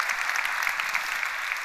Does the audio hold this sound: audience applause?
yes